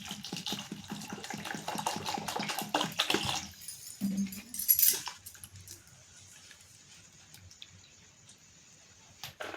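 Potatoes are washed by hand under running water, a soft trickle with light rubbing and clattering in the first few seconds, then quieter splashes and faint drips.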